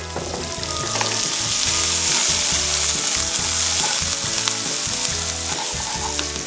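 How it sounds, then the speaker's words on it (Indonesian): Onions sizzle loudly in a pan with garlic for a creamy mushroom pasta, with steady frying crackle and the scrape of stirring, over rhythmic background music. "Setelah agak layu, kita tambahkan bawang bombaynya."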